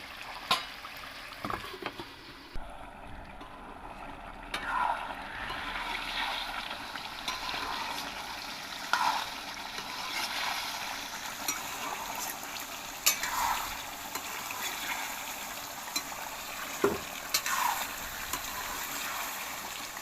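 Egg and new potato curry sautés in a pan, giving a steady soft sizzle and frying hiss with a spoon now and then scraping and stirring at intervals, fairly close and moderately quiet.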